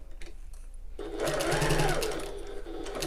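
A sewing machine stitches around the curved bottom corners of a bag, its close, loud whirring rising into a steady run after a brief quiet start.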